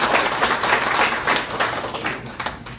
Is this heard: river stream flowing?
no